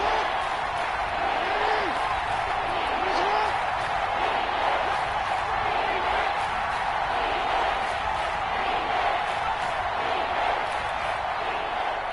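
Stadium crowd in a PS4 American football game, a broad continuous roar of cheering and noise holding steady and loud throughout, with a commentator's voice faintly beneath.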